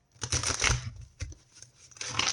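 Tarot cards being shuffled by hand in a reading, two bursts of crisp riffling and flapping separated by a short pause, close and fairly loud with no talk over it.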